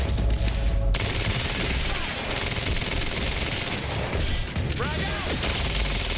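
Dense, continuous gunfire from the video game Quantum Break, loud and sustained over the whole stretch with crashing effects mixed in, and a voice briefly audible underneath.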